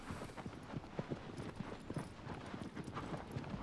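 Horse hooves clip-clopping in the Shadow of the Colossus video game, a steady galloping rhythm of soft, close thuds carrying on alone over a low ambient bed.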